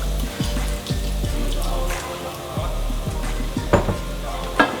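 Sichuan pepper, Chinese five spice and soy sauce sizzle in a frying pan while a utensil stirs them, a steady crackling fry broken by repeated scraping strokes and a few sharper clicks.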